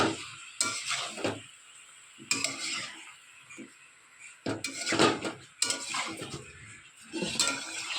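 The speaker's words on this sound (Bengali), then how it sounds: "চিংড়ি মাছ দিয়ে দিয়েছি, এবার আস্তে আস্তে করে এটা নাড়াতে হবে।" Shrimp being stirred in a cooking pan, giving bursts of scraping and clinking utensil strokes against metal with pauses between them, close and fairly soft, over a faint sizzle.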